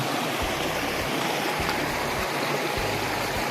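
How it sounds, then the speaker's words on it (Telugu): Stream water rushes steadily at Penchalakona waterfalls, a loud continuous wash with low gurgling pulses underneath. "వాటర్ ఫ్లో ఎక్కువైంది, కేర్ఫుల్గా వెళ్ళాలి."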